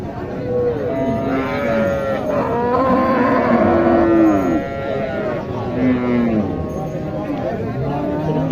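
Sahiwal cow at a cattle market lowing in several long, drawn-out moos, close and loud, with people talking in the background.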